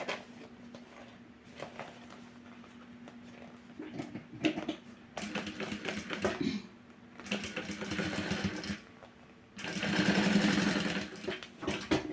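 A sewing machine stitches synthetic bias binding onto a box-style zip pouch in short runs of a few seconds, with quieter handling of the fabric between them.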